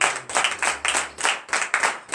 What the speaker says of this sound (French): Ah ben là, ça mérite de l'acclamation.